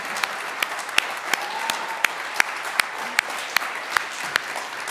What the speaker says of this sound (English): They need a big round of applause, please